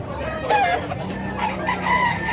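Chickens cluck and a rooster crows amid a busy Malabon pet market in the Philippines, with several overlapping calls and a drawn-out crow, fairly close over a murmur of background noise.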